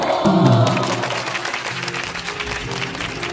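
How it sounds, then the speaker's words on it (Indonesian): An audience at a seminary arts performance claps loudly and steadily, a dense wash of applause from a crowd indoors, fading slightly toward the end. "Kita berikan tepuk tangan yang meriah."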